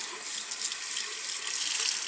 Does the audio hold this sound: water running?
yes